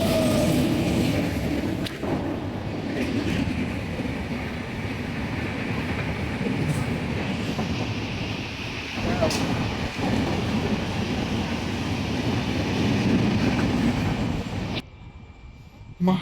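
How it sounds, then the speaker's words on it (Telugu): A train rumbles steadily nearby at a station on a journey to Arunachalam in Tamil Nadu, a dense continuous low roar with clanks, then drops away abruptly near the end. "మా ట్రైన్ ఇప్పుడు వెళ్ళిపోయింది."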